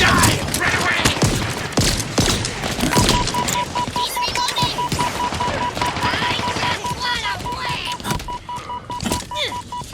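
Rapid bursts of automatic gunfire from Halo Infinite on Xbox Series X rattle on continuously, dense and loud, with a steady beeping tone running beneath and a voice talking over parts of it.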